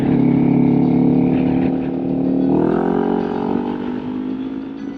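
A 2020 Kawasaki Ninja 400 motorcycle rides along with a steady, loud engine drone, then its pitch climbs as it accelerates before settling into a higher cruising hum.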